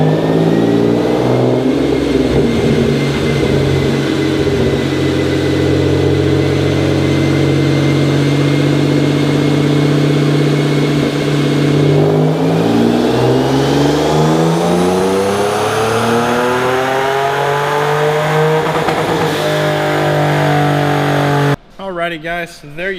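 A 2006 Ford Mustang with a 4.0 L V6 running on a dyno, revving loudly through several rising and falling sweeps, holding a sustained high-rpm pull near the end before it cuts off abruptly.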